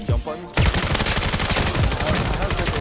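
Rapid automatic gunfire rattles from the VR shooter game VAIL, a dense continuous burst of shots following a brief quiet start.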